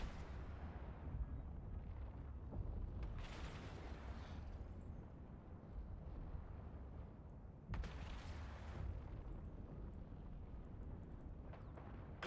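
Ship weapons fire in an EVE Online space battle: a dense, continuous heavy rumble broken by louder booming bursts near the start and again midway, with no voices.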